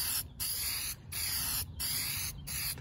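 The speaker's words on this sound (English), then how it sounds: "the next step is to take your gasket and to coat it with some copper spray" Copper spray hisses from an aerosol can onto a head gasket for a Willys L134 flathead engine in several bursts separated by short pauses, close up and fairly loud.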